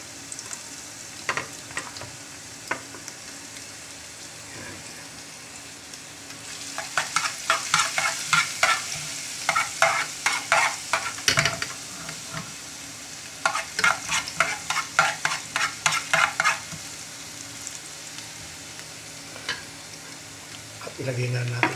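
Ginger sautéing in cooking oil in a pan for chicken sisig, quiet at first, then bursts of sizzling and rhythmic stirring scrapes that come and go.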